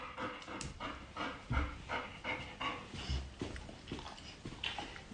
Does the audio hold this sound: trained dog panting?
yes